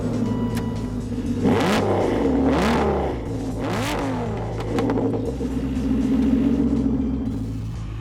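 An Aston Martin V12 Vantage engine fires up and revs several times in quick rising and falling blips, then settles into a deep, close, steady idle rumble.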